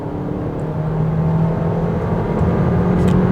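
A Volkswagen Tayron at full throttle, steady engine drone and road roar building gradually from inside the cabin, moderately loud with no talk.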